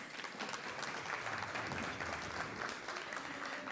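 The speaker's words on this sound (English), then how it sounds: "Give a round of applause." A crowd applauds with dense, steady clapping that holds evenly throughout, heard from a distance in a large room.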